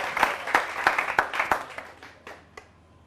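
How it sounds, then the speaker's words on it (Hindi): An audience at a poetry gathering claps in several sharp bursts that thin out and fade toward the end, with no talking over it. "और आप सब हाथ खोलिए, ताली बजाइए।"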